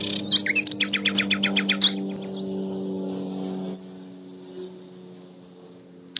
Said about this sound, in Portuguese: É o som do roxinol, ele é um som agudo.